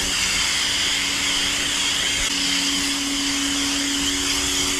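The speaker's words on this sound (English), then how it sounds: "now we have a high pressure foam dispenser plus high pressure washing machine for the car" A 2300 PSI VEVOR electric pressure washer washing a car runs loud and steady, a continuous motor whine with a dense hissing spray, unbroken throughout.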